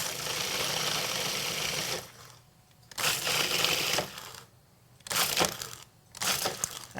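A food processor grinds dry crumble ingredients with almonds in loud, coarse bursts of whirring and crushing, stopping in short gaps between pulses; no one speaks.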